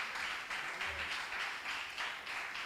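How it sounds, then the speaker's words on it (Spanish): Worshippers in a church congregation applaud loudly, many hands clapping in a full, continuous roar that swells in a loose rhythmic pulse about twice per second. "Dale palmas fuertes."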